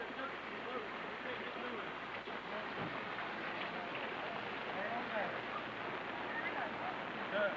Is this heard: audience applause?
no